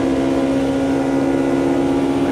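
A damaged race car engine in the Automobilista 2 racing game drones steadily and loudly, holding a constant pitch with a rough buzzing tone throughout.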